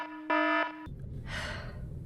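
A game alarm in Fallout New Vegas goes off after a toaster mishap: a loud, steady electronic tone of about a third of a second, preceded by a softer tone, then fading into low ambient noise.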